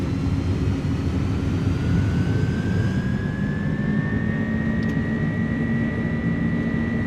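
Engines of an iniBuilds Airbus A300 cargo jet in MSFS2024 spooling toward takeoff power: a loud, steady turbine roar with a rising whine that climbs in pitch and then holds, continuous throughout.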